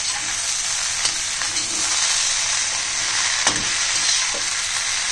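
Okra stir-fries on a low flame with coarsely ground pepper, making a crispy Indian bhindi dish. A loud, continuous sizzle carries a few sharp stirring clicks against the pan.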